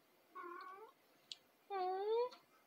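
A gray cat resting under a Christmas tree meows twice, a shorter call followed by a longer, louder drawn-out one, close and clear in a quiet room with a small click between them.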